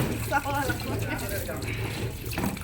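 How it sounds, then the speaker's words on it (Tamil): Water runs steadily from a tap into a sink as dishes are washed, with faint clinking of dishes and a voice speaking softly underneath. "எங்கள் அக்கா வந்து பாத்திரம் விளக்கிட்டு இருக்காங்க"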